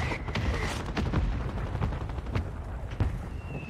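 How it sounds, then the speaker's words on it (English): Mortar fire in a Call of Duty Warzone match: several sharp explosive blasts and cracks land in irregular succession over a dense, rumbling battlefield background. "That's a mortar."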